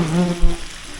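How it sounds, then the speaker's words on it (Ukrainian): Potatoes fry in a pan on an outdoor cooking stop during a cycling trip, a soft steady sizzle with a low hum and a brief knock at the start. "Отак смажиться в мене картопля."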